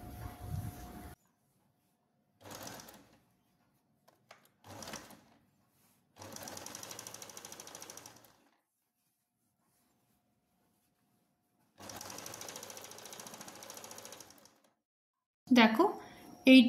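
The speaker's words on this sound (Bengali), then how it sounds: "আমি সেলাই করে এটা দেখাচ্ছি তোমাদের" A sewing machine stitches the fold of a half pant for its elastic casing. The close whirring runs in short and longer bursts separated by silences, with a brief voice near the end.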